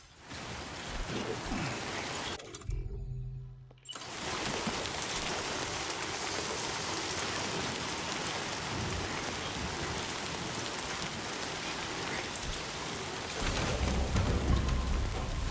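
Heavy rain falls steadily in the video game Death Stranding 2, a dense continuous hiss of drops that briefly cuts out for about a second before resuming and swelling slightly near the end.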